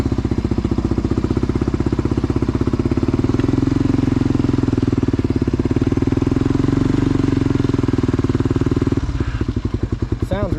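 A junkyard Honda four-wheeler ATV engine runs close and loud with a rapid, even thumping idle that holds steady, then dips and shifts near the end.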